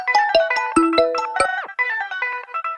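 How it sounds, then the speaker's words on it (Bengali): Phone ringtone plays a bright synthetic melody of short repeated tones in quick rhythmic phrases, loud and close, with nothing else heard. "আরে এই টাইমে আবার কে ফোন করলো?"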